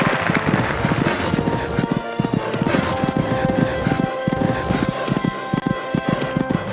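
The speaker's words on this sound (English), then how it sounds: "This horse just cantering along this part of the course." A horse canters along a cross-country eventing course, its hoofbeats landing in a steady, clearly repeating three-beat rhythm, close and loud against outdoor background noise throughout.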